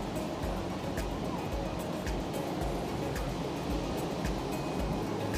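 Steady, rushing surf rolls onto the shore at a beach in Destin, Florida, a continuous broadband wash with gentle repeating swells and some wind buffeting the microphone.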